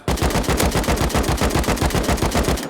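Rapid, steady gunfire from a weapon at a long-range shooting range in the video game Rust, loud, close shots repeating about every fifth of a second, with no talking.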